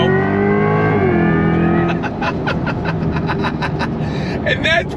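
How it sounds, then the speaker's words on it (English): A 2024 Corvette E-Ray's V8 pulls hard on throttle, its rising engine note giving way after a shift to a dense, pulsing rumble with crackling bursts, loud and close. "On throttle, here we go."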